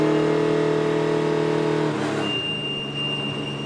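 A NASCAR truck engine at a race, heard from onboard after a spin, its steady tonal drone dropping away and then picking back up in pitch as it comes back to life, loud and close with no voices.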